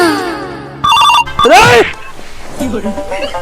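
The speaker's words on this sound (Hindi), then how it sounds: "अरे साला फोन बजा था" A telephone rings loud and close in a shrill electronic trill, interrupted by a voice; speech follows after the ringing stops, in a Bhojpuri comedy sketch.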